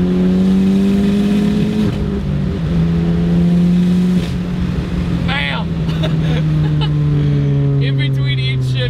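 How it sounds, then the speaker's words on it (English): A 400-horsepower Ford Focus ST accelerates hard, its engine droning and climbing through the gears with brief sharp pops between shifts, loud and close from inside the car, with voices talking over it. "In between each shift, you get a loud pop, which is really satisfying."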